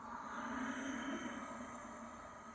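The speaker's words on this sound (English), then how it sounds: "You'll get this soft, sweet, silky, whistling Ujjayi breath on the back of the throat." Slow Ujjayi in-breath drawn through the nose with a narrowed throat, a soft, steady, airy hiss with a faint whistling edge that swells and holds for about two and a half seconds, close and quiet, with no talking.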